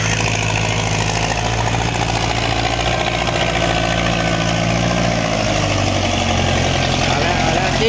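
A small Ford tractor-type loader's diesel engine runs steadily while pushing and levelling soil, with a loud low rumble and rattling vibration throughout; the engine tone shifts slightly toward the end.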